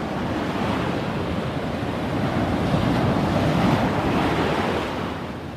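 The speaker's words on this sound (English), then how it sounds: "But look at some of these waves." Ocean surf at Long Bay rolls in as a continuous broad roar of breaking waves, swelling slightly in the middle, mixed with gusty wind buffeting the microphone.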